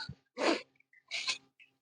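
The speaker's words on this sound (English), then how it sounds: "I have to sneeze, excuse me." A sneeze in two bursts, a sharp intake then an explosive release and a second sneezy burst, close and fairly quiet with no other sound around it.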